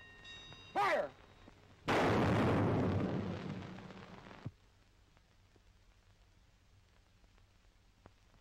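A 12-inch coast artillery gun on a barbette carriage fires electrically with one huge, booming blast that rolls and decays for a few seconds. A brief tonal whistle comes just before it, then a low, steady background hum.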